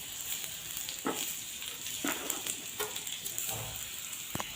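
Chopped onions fry in a hot pan, a continuous close sizzle with occasional soft stirring scrapes and no talking.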